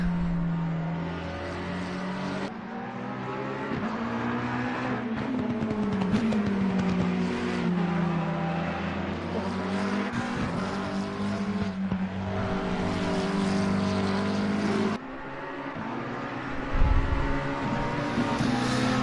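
Race car engine droning continuously around the Nürburgring in a racing video game, a steady loud whine with shifting pitch and a brief louder burst near the end, with no talk.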